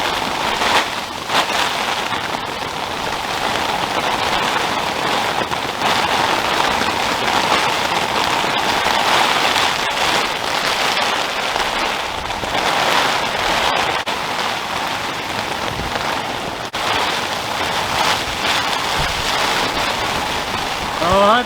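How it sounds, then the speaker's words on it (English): Heavy rain during a storm pours down in a dense, steady roar across the whole stretch, with a few louder drumming spots and brief knocks on a nearby tarp in the bush. "I don't mind rain, I said."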